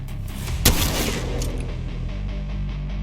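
A single shotgun blast fired from the hip in Apex Legends, one sharp loud boom followed by a fading rumble and game ambience, with no talk.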